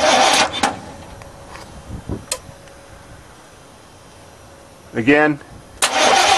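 A Chevy 350 gas truck engine with diesel in the tank cranks over near the end, a short rhythmic starter chug, after someone speaks and some clunks with quiet stretches between.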